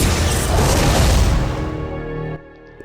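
A linear launcher shot explodes in Resident Evil Survivor 2, a loud sustained blast with a crashing roar that rumbles for about two seconds before cutting off abruptly into near silence.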